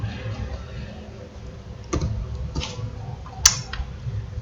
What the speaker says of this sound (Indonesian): Kemudian tekan Ctrl F